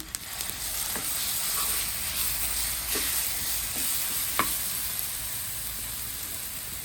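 Ground paste tipped into hot oil with cumin seeds, giving a steady soft sizzle and hiss with occasional light stirring clicks.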